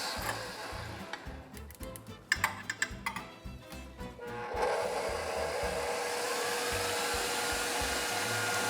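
An electric mixer whips egg whites with cream of tartar in a bowl, first with ticking and knocking, then settling into a steady, even whir close by.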